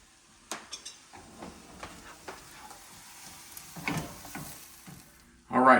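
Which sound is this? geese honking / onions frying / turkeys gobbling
onions frying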